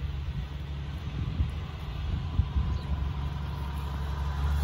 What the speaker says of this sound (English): Truck noise today.